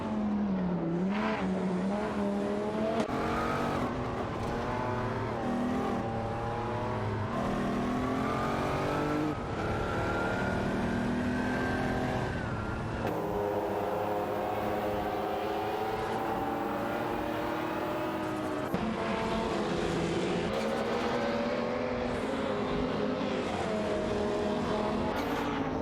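Race car engines in a video game, a Shelby Series 1 and a Dodge Viper GTS ACR battling in an AI race, with loud sustained engine whine that rises and falls through gear shifts as several cars run close together, no talk.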